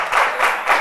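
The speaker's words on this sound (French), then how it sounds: "Je t'applaudis." A live audience at a comedy show claps in a brief, dense burst of applause that swells in a few soft waves.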